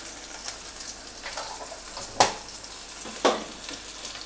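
Ground spices (chili, turmeric, coriander and cumin powder) fry in a pan for an egg fish roll with rohu fish, giving a soft, low sizzle with two sharper crackling pops.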